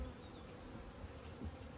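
Honey bees buzzing around a hive, a steady close drone of many insects with no voices.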